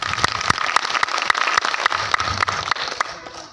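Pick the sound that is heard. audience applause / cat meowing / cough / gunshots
audience applause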